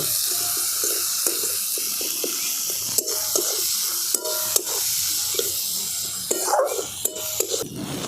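Spice paste with salt and turmeric being stir-fried with potatoes in a pan, a steady sizzle under repeated clinks and scrapes of a spatula, close and moderately loud.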